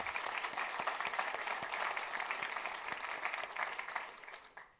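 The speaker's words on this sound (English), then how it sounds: "If you would join me, give them a little applause." A crowd applauds staff at a university's annual state-of-the-university address, a steady wash of clapping for a few seconds that thins and fades out at the end.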